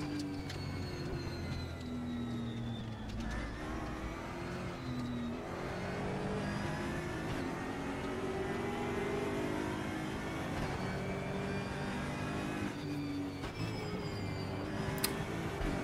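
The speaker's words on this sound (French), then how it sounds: "Voilà pour ce jeu de course de voiture" Race car engines in a car racing video game rev and accelerate continuously, their pitch rising and falling as gears shift, steady and fairly close with no talking.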